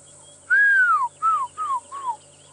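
A human whistles an imitation of a fish eagle call on a safari drive: one long descending note followed by three shorter downward-sweeping phrases, falling and slurred, clear and close, with no talking.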